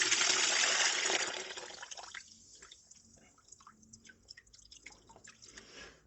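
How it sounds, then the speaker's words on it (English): Coolant from a Lada's removed radiator pours noisily into a bucket, a loud splashing rush for about two seconds that then fades into scattered, irregular drips close by, with no talking. "Just use the bucket and dump the rest in."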